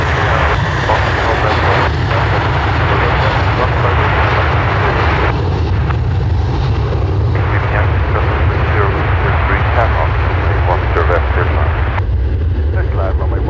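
An airplane departing runway 10 at Dublin Airport, its engines a loud, sustained roar that stays strong and steady for the full stretch, with a broad rumbling thrust.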